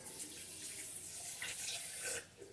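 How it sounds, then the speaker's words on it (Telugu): Water poured from a tap or vessel onto sugar to make syrup for gulab jamun, a soft steady splashing stream that runs for a couple of seconds and then stops, fairly quiet. "వేసిన తర్వాత వాటర్ వేసుకోండి ఫ్రెండ్స్"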